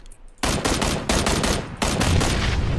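Loud, close automatic rifle fire in the battle royale game PUBG, a dense rapid burst running almost nonstop with brief gaps between sprays.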